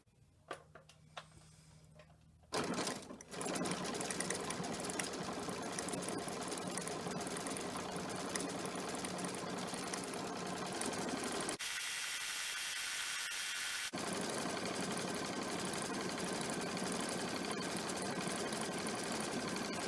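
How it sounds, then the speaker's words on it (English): A Brother Luminaire Solaris sewing and embroidery machine runs at a fast, steady mechanical whir, stitching continuously after a brief startup with a short change in tone midway; close, no talking. "So I'm going to set it on that one, and then I will start stitching."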